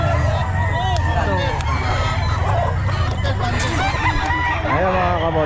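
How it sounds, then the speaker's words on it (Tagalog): Chickens cluck and roosters crow loudly at the Bocaue pet market, a dense chorus of overlapping calls with background chatter from people nearby. "ang daming manok mga kabosing"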